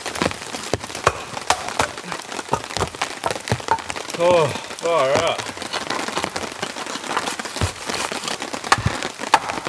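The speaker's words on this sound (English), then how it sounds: "Rain's coming in." Heavy rain patters in dense, irregular taps on a ripstop nylon tent at a campsite, close and continuous, with a person briefly exclaiming midway.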